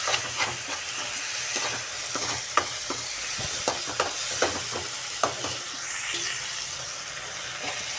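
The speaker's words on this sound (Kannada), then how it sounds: "ಆಮೇಲೆ ಅರಿಶಿಣ ಪುಡಿ ಹಾಕಿ ಒಂದು 2 ನಿಮಿಷ ಫ್ರೈ ಆಗೋಕೆ ಬಿಡ್ಬೇಕು ರೀ" Chopped onions and tomatoes fry with turmeric powder in a pan, a constant soft sizzle broken by repeated scraping clicks of a spoon stirring against the metal, close and moderately loud with no talking.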